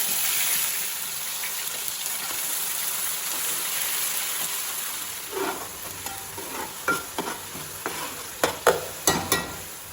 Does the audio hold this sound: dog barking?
no